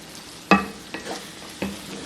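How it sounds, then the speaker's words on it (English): Ground beef and potatoes being stirred in a frying pan for an Indian stuffed pepper filling, with three sharp scraping clatters over a faint steady sizzle. "it's almost 15 minutes since this meat is cooking"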